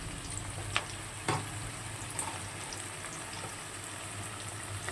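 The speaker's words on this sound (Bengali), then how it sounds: "বেশ ভালো করে লাল লাল করে ভাজা হবে।" Crab pieces fry in hot oil in a pan, making a steady, even sizzling hiss throughout with a couple of faint clicks from a utensil, close and without talk.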